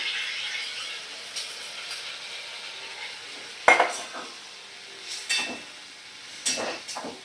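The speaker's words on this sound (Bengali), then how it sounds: "এইবারে সিদ্ধ মুগ ডালটাই আমি পুরোটাই দিয়ে দিলাম।" Boiled mung dal going into a pan of sautéed chopped tomato, with a steady low sizzle and a few distinct scraping stirs of a spoon against the metal, moderately close, no voices.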